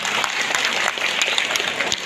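A crowd claps steadily at an award ceremony for scholarship winners, a dense, even patter of many hands held at one level throughout, with no speech over it.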